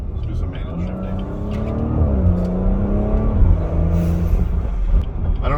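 BMW engine revving up through manual gear shifts while driving, a smooth rising and falling drone with steady cabin road noise underneath and someone talking over it.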